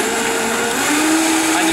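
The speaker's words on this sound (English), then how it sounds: "Here we go with the Vitamix again." A Vitamix blender runs at a steady, loud whine, continuous and unbroken, close to the listener.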